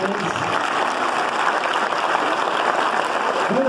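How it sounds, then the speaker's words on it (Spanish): Clapping from a crowd at a church anniversary celebration follows children's singing, an even, steady patter that carries for several seconds, with a faint voice near the end. "Pues aplausos."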